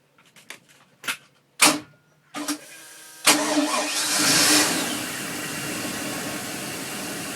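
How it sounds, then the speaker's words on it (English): Mercury MerCruiser 7.4 MPI V8 boat engine cranks in a few short bursts, then catches and settles into a steady, close running drone. "So I'm just gonna start up the engine."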